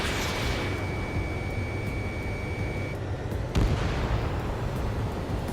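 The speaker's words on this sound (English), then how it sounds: "Fire the AA!" Anti-aircraft fire and explosions in the Ace Combat 7 combat flight game, a dense, continuous roar of gunfire with one sharp, louder blast partway through, no voices.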